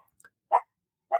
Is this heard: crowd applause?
no